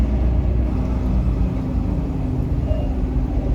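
Road traffic waits near the Squirrel Hill tunnels, heard from inside a vehicle as a steady, loud low engine rumble and road drone with no pauses.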